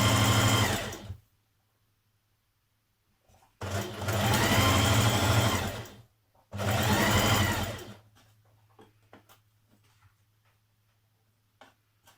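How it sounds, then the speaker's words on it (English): Overlocker stitching the seam edges of a Simplicity 2184 skirt in three loud, steady bursts of fast whirring, about one, two and a half, and one and a half seconds long, separated by quiet pauses and a faint hum, then a few soft clicks. "So I'm going to overlock my edges after I've done my seam."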